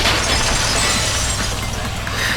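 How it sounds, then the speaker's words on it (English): A vase shattering in Danganronpa 2, a sharp crash of breaking ceramic followed by a dense, bright spray of scattering fragments that stays loud and close for a couple of seconds. "If it wasn't the window, then what broke to make that sound? A vase."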